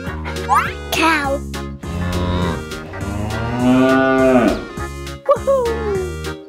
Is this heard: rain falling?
no